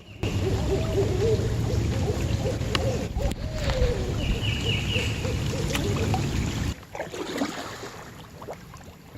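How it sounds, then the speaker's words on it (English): Owls hooting along the New River on a cloudy, cool day, heard from a paddled boat: repeated soft hoots over steady water and paddling noise, the water sound easing near the end. "You hear the owls now?"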